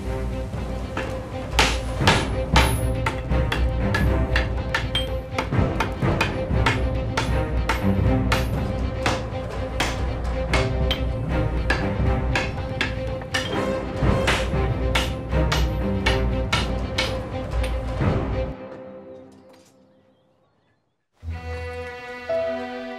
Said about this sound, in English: hammer those two bits of metal together to seal off that hinge